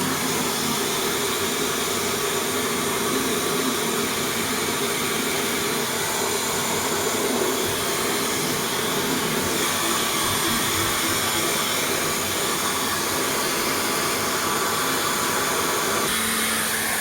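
A new pet dryer blows in a steady, even broadband rush of air, running continuously and fairly loud throughout with no talk over it.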